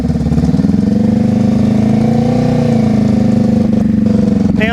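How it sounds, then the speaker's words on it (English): A motorcycle engine runs steadily at moderate throttle during slow-speed riding practice, a loud close drone with a slight rise and fall in pitch and a throaty pulsing beat. "But you hear her engine. Throttle's not really high. It's not too low."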